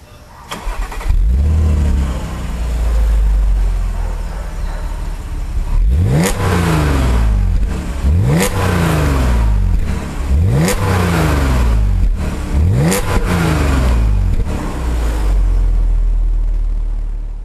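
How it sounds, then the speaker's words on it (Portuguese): An Audi S5 Coupé engine starts, then revs four times in a row with rising and falling sweeps before settling back to a loud idle, close and alone with no talk. "Vamos ouvir o motor,"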